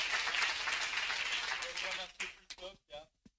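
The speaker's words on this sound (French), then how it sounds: "Merci, s'il vous plaît, d'applaudir l'EPID et son représentant," Audience applause at a Hauts de France community forum on youth inclusion from priority neighbourhoods: dense, steady clapping fills the room for about two seconds, then thins out and gives way to short bursts of speech.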